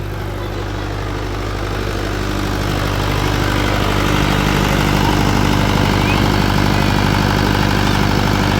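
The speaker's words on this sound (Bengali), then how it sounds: "এই যে সামনে ডিজি এইমাত্র স্টার্ট দিল।" A diesel generator just started on a sound-system setup, running as a steady low, heavy drone with constant vibration, loud and close, growing slightly louder partway through and heard alone without talk.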